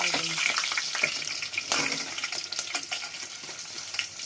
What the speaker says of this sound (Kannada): ಫ್ರೈ ಮಾಡ್ಕೊತಾ ಇದ್ದೀನಿ.